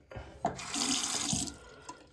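A bathroom faucet in a hotel room runs briefly into a sink, a short splashing gush of water close by, starting and stopping within a couple of seconds.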